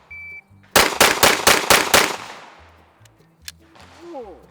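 Pistol shots from a SIG P320 handgun: a quick string of about six sharp, loud cracks fired in rapid, even succession, each with a short echoing tail, then one further crack after a brief pause and some quiet handling noise.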